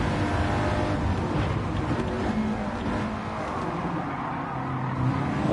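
Race car passing by in Gran Turismo 7, engine noise with a continuous steady roar that rises and falls slightly, close and loud, with no speech.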